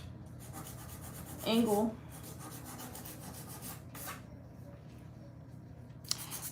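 A nail file rubs against fingernails with close, repeated rasping strokes that are fairly quiet and steady. A voice speaks briefly in the middle, and a sharp tap is heard near the end.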